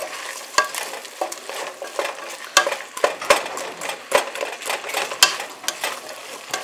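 White chicken chili ingredients stirred in a hot pan, steady sizzling and frying with scraping clicks of a utensil against the pan at irregular intervals.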